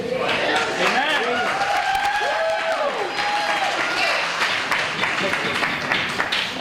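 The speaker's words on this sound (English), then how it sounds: "his supporters are cheering him on" Supporters cheering and applauding in a Shelby County Commission chamber, a continuous crowd roar of clapping with a voice rising and falling above it.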